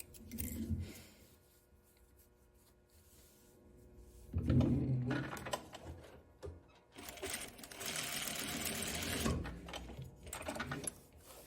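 A sewing machine tacks and backstitches fabric ties in short bursts of whirring mechanical stitching with pauses and handling clicks between them, fairly close and otherwise quiet.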